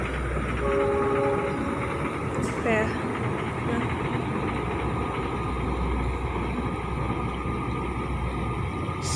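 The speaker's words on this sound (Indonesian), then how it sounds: "jadi ada suara keretanya." A train runs along a railway near a canal sluice gate in Subang, West Java, a steady broad rumble throughout with a brief horn-like tone, while people talk briefly nearby.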